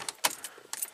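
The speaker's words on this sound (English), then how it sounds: "So let's turn the key on." Car keys jangle and click as the ignition key of a Buick is turned on, several quick metallic chinks in a short burst, close and fairly quiet.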